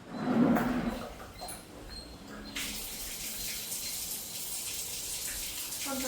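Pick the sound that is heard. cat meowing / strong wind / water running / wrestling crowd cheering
water running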